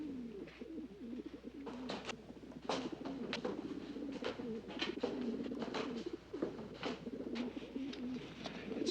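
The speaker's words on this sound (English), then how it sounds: "It's those pigeons." Pigeons coo steadily and near in a soft, rolling chorus, with repeated throaty calls overlapping for the whole stretch and no voices.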